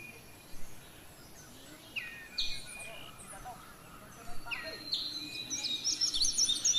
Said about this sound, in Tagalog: Yung ibon na sumasayaw, yung kulay itim tapos puti yung buntot.